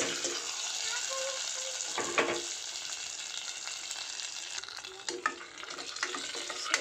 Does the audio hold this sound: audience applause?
no